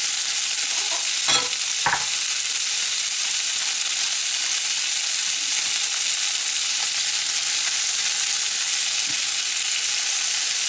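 Pork chops sear steadily in a hot pan with a loud, continuous sizzle and hiss, broken by a couple of brief clatters near the start.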